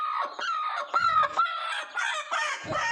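A broody village hen gives repeated close, agitated clucks and squawks as she is lifted, in short irregular bursts with no talk.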